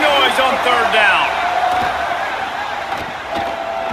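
Stadium crowd noise on third down in a college football video game, a loud roaring din with whoops and a commentator's voice over it, fading slightly and holding steady through the rest.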